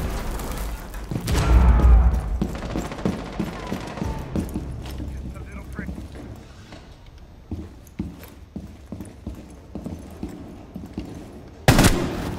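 Gunfire in Rainbow Six Siege on the Kanal map, a burst of shots near the start followed by scattered, irregular gunshots and a sharp loud report near the end, with game sounds throughout.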